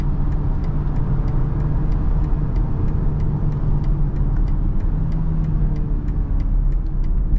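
A 2023 BMW X3 on the move, heard from inside the cabin as a steady, loud low engine and road rumble with a faint, evenly spaced ticking running throughout.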